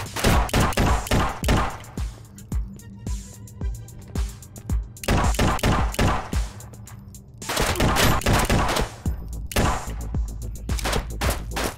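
A Glock pistol fires in the VR shooter Shotwood, with sharp, loud, close shots in rapid bursts and short pauses between volleys.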